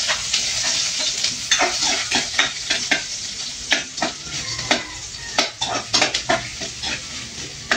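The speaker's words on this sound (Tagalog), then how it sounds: "Magigisa na po tayo guys. Bawang, tsaka sibuyas." Garlic and onion sautéing in a pan, a bright continuous sizzle punctuated by frequent loud scrapes and clinks of a utensil stirring against the metal, close and with no talking.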